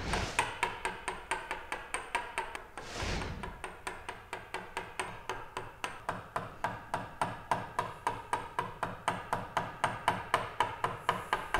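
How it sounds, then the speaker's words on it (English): Hand-cut wooden tenon being trimmed, chopping off waste bits: a long run of crisp, evenly spaced mallet-and-chisel strikes at a steady rhythm, close and distinct, with one brief rushing noise early on. "chop these little bits off and we can trim the tenon to its final width"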